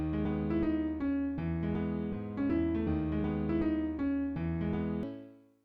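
A dense synth melody chopped into rhythmic gated stutters by a Gross Beat effect, trap-style chords pulsing in short repeated bursts before fading out at the end; no voice.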